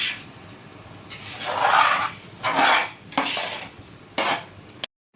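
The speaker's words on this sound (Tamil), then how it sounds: "இப்போ ஒரு வாட்டி நல்லா மிக்ஸ் கொடுத்துக்கலாம்." Beef biryani masala being mixed in a metal pot in a Chennai-style preparation, with a few bursts of spoon scraping and clanking against the pot, close and fairly loud, separated by short pauses.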